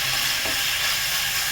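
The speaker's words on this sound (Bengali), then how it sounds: "ভাজা পটল দিয়ে নাড়াচাড়া করে নিই" Fried pointed gourd being stirred into a pan with katla fish belly pieces, hot oil sizzling steadily and loud, with a faint scrape of the stirring utensil partway through.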